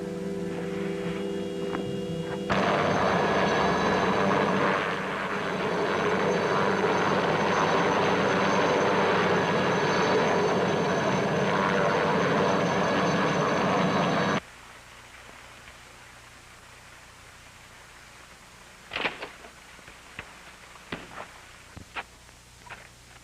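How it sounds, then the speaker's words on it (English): A helicopter's engine and rotors roar loud and steady for about twelve seconds, then cut off abruptly, leaving a low hum with a few faint clicks and knocks afterward. "All right, let's get in the chopper."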